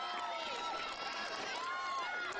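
The Comets home crowd at a Division 1 softball semifinal cheers and whoops loudly, a continuous wash of many voices and whistles from the stands.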